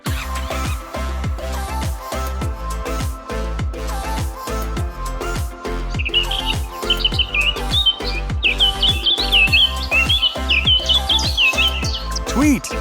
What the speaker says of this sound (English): Tweet, tweet, look at the bird.